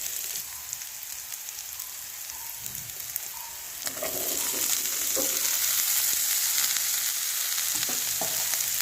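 Chopped winged beans (dambala) hit hot oil in a pan and fry with a steady, dense sizzle that swells louder partway through, with occasional stirring scrapes and no talking.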